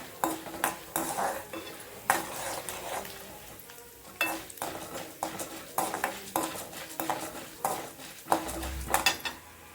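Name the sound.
frying chana dal on low flame for tomato chutney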